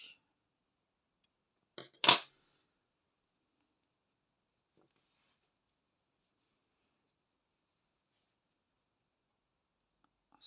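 Scissors cut crochet yarn in one quick, crisp snip preceded by a faint click, close by in an otherwise quiet room.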